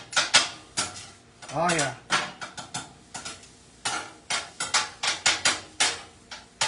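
Food ingredients being mixed in a pan: a rapid series of metallic clanks and scrapes of a utensil against cookware, loud and close, with a brief spoken exclamation partway through.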